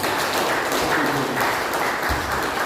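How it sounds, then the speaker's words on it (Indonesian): A church congregation claps together in praise, producing a dense, even wash of applause that carries on steadily throughout. "Kita belum beri tepukan tangan untuk kemuliaan nama Tuhan."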